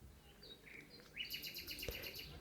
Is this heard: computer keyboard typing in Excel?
no